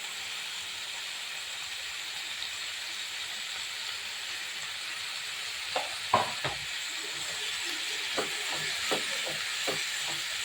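Radish greens fry in a pan with a steady, faint hiss and sizzle, while a few quiet scrapes and clicks from stirring come near the middle and end.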